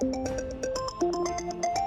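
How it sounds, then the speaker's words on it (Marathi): A mobile phone ringtone plays indoors inside a house, a bright repeating electronic melody with regular chiming pulses, steady and clear with no talking over it. "दाजींचा फोन तर आतमध्येच वाजतोय."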